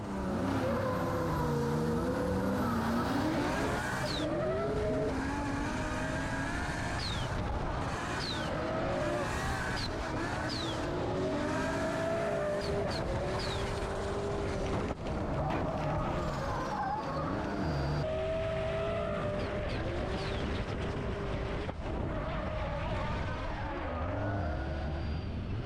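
A race car at a French mountain hillclimb event roars continuously with all four wheels off the track, its engine rising and falling through repeated gear changes, with occasional tire squeal; it is loud and close throughout.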